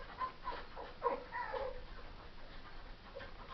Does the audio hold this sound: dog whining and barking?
yes